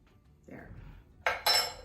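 Leftover vegan Caesar dressing scraped from a container, a soft scrape followed by two sharp clinks of a utensil against the dish.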